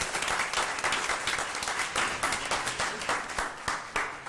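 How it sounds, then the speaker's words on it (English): Audience at a school board of trustees meeting applauding student champions, a lively burst of many hands clapping with crisp individual claps, fairly close and continuous, with no talk over it. "Let's give them one more round of applause."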